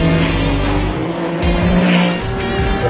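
Ferrari 296 Challenge race car lapping Miami International Autodrome, loud engine note with shifting pitch and tire squeal through a corner, recorded close and continuous.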